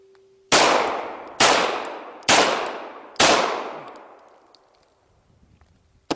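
A Beretta 92FS pistol fires four spaced shots at a steel target. Each report carries a loud, sharp metallic ring that decays slowly, and the last ring trails off into near silence.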